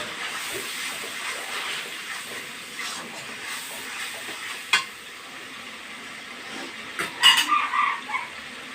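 Spice paste of ground cardamom, cinnamon and black cardamom sizzles gently in hot oil for a catfish and green banana curry, with soft scraping stirs and a few sharper clinks of the spoon against the pan.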